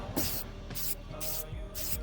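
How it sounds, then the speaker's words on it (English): A spray paint can hisses black paint in four regular bursts of about a quarter second each, sharp and close, with brief gaps between strokes. "So right now I'm gonna go spray paint these black"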